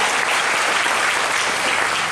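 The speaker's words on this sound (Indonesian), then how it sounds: "Berikan dulu tepuk tangan bagi Tuhan Yesus kita." Steady, dense applause from a congregation at a church revival service in Kendari, loud and continuous throughout with no talk over it.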